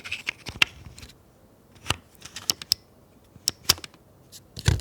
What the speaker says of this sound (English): this is how a card is supposed to go into the camera.